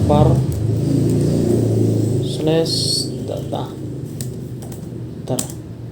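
Keys clatter as a command is typed on a computer keyboard into a Linux terminal on Ubuntu running in VirtualBox. The clicks are light and irregular, and a voice talks over much of the typing.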